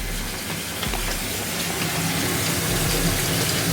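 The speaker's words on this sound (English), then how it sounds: "Hot water tap on, 58 degrees, there you go," A hot water tap runs at 58 degrees from a Vaillant boiler under repair, giving a steady, close hiss of flowing water with a faint low hum beneath, no voices.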